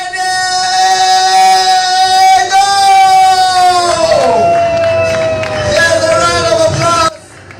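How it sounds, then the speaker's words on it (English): A loud crowd cheers and whoops at the launch of the 2026 Nigeria–Sierra Leone Trade Fair, with sustained, tonal shouting that swells and carries for about seven seconds before cutting off abruptly. "Here's a round of applause."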